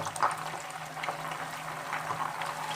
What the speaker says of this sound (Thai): ผมก็จะใส่เนื้อปลาดุกลงไปเลยนะฮะ ทีละชิ้นทีละชิ้นนะครับ ปลาดุกที่เราคลุกแป้งบางๆ เรียบร้อยนะฮะ ใส่ลงไปเลยครับ